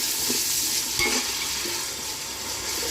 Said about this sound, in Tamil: வெங்காயம் நல்லா பொன்னிறமாக ஆகிற வரைக்கும் நல்லா வதக்கிக்கலாம்.